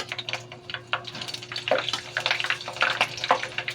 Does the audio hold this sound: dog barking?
no